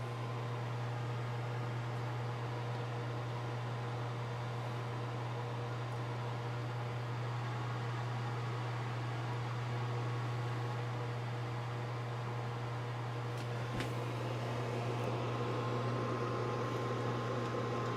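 A microwave oven with a new magnetron cooks nachos, giving a steady low hum and fan whir that continue evenly throughout. There is a brief faint click near the end and no talk.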